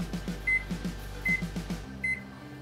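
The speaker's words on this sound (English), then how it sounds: "set our timer for 10 minutes" A kitchen timer being set while cooking, giving a series of short, clipped beeps in quick clusters followed by a few longer tones, heard close and fairly quiet.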